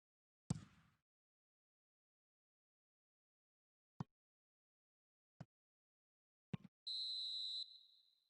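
In a PS4 football video game, a referee gives a single short, bright final whistle blast near the end, after a few faint, scattered thuds in otherwise quiet surroundings.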